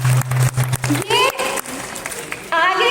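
Scattered applause from the audience at an RCM cosmetics training workshop, patchy and partly buried under a person talking over a steady hum.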